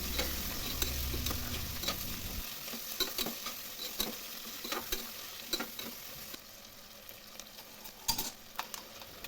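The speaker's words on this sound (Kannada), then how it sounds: "ಟೊಮೊಟೊನ ಸಹ ಸೇರಿಸ್ಕೊಂಡು ಚೆನ್ನಾಗಿ ಫ್ರೈ ಮಾಡ್ಕೊತಾ ಇದ್ದೀನಿ" Onion and tomato fry in a pan for mushroom pulao, giving a soft continuous sizzle. Scattered scraping taps from stirring sound up close. A low hum fades out early on, and no one speaks.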